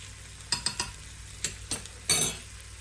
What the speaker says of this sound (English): we're just going to go ahead and mix this all up